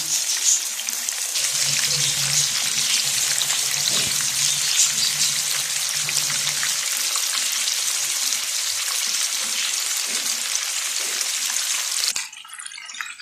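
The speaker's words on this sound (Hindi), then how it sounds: "पहले हम इनको फ्राई कर लें।" Chicken pieces frying in a pan while a chicken steam roast is prepared: a steady, bright sizzle running close and loud for about twelve seconds, with faint stirring or clinks underneath, then cutting out abruptly.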